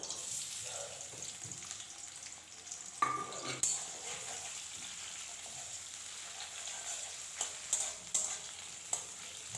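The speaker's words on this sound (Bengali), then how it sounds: "পেঁয়াজ রসুন কাঁচা লঙ্কা হালকা ভাজা করে নেব" Onion, garlic and green chilli fry in hot mustard oil with a steady close sizzle, broken by a few stirring scrapes and clatters.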